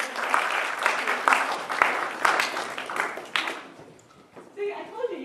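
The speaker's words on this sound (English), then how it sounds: "We should give them a round of applause." An audience at a talk on speaking across disciplines applauds, a dense burst of clapping that fades out over several seconds, with a voice speaking over the end.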